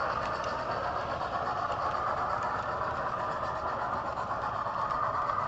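A model Flying Scotsman A3 locomotive runs along a loft layout with a steady close whirring rumble and faint rail clatter, continuous and even throughout.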